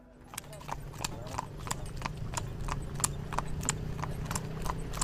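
A horse pulling a carriage clip-clops through the streets of Edfu, Egypt, its hooves striking in a steady even rhythm close by against a continuous low rumble, with talking heard under it.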